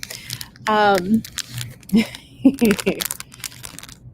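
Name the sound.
jewelry being packed into crinkling plastic bags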